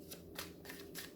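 Tarot cards drawn one by one from a deck, four soft papery swishes spaced roughly evenly, close and quiet with no talk.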